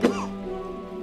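A single sharp cough at the start, close and loud, from someone playing Rust, then a lingering low hum in the background.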